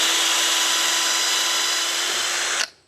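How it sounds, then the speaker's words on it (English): A power drill whines steadily at high speed as it bores into hardwood, close and loud, then cuts off abruptly near the end. "I'm going to drill one of these and then put the screw through"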